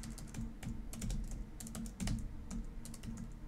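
Computer keyboard being typed on, a quick irregular patter of close, crisp key clicks running throughout.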